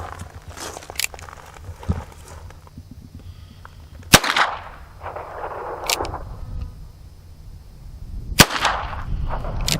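A Chiappa 1873-22 single-action revolver fires three sharp cracks at an outdoor range, spaced roughly four seconds apart, with quieter handling noise and shuffling between shots.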